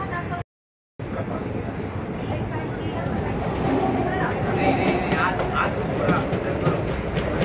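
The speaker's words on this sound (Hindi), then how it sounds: "इसका शंटिंग हो रहा है।" A train shunts at Chennai Central, giving a continuous low rumble and clatter with busy station hubbub. The sound cuts out for a moment near the start, then carries on steadily.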